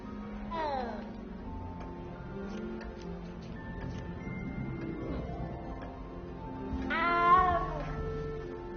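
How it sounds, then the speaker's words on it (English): A frightened cat meows twice in a video game, a rising-falling cry near the start and a louder, strained one near the end, over a steady low game ambience and a soft ticking. "You don't need to be frightened, little cat."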